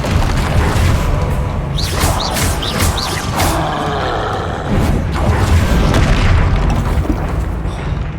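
Repeated Confringo spell blasts from Hogwarts Legacy gameplay, loud booming explosive bursts with crackling debris and whooshing magical effects, several hits in succession over a dense combat din.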